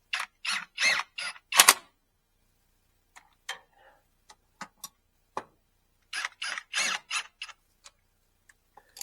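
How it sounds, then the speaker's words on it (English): Torque wrench tightening a bolt to 25 foot-pounds on a 1958 Willys drivetrain, heard as bursts of rapid ratcheting clicks near the start and again later, with sparse single sharp ticks between them. "Let's just snug this on, and then we'll torque it."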